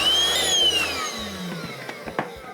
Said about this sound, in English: I happen to have my rechargeable dry vac. I'm just gonna vacuum this.